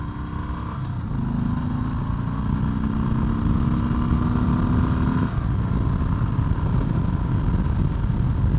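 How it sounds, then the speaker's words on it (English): 2018 Harley-Davidson Sport Glide with its fairing removed, accelerating on the road: a deep engine rumble rising in pitch through a gear, then dropping and building again under heavy wind roar, heard from the rider's position with no talking. "this bike got up to 70 in no time flat"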